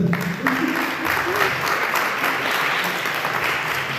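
A room full of people clapping steadily for several seconds, a dense, even patter of many hands with some voices mixed in, at a high school matric dance.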